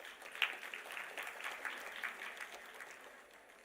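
Audience applause at a university day celebration, a soft, moderately distant patter of clapping that swells briefly and then fades over a few seconds.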